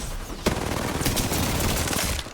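Rapid bursts of automatic gunfire in a video game, dense and loud, with sharp cracks layered over a continuous rattling barrage.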